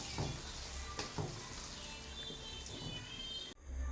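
Ground garlic and tamarind paste fries in a pan for garlic pickle, a steady close sizzle broken by a few scraping stirs, ending abruptly.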